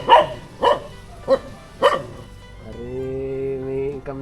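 A dog barks four times in a steady rhythm, close and loud, then lets out a drawn-out whining howl.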